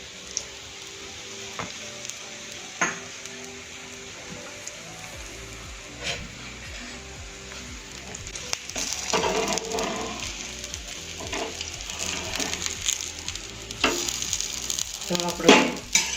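Adad dal chila frying in oil on a pan sizzles steadily, with scattered pops and crackles that grow louder and busier halfway through, and a few soft utensil taps.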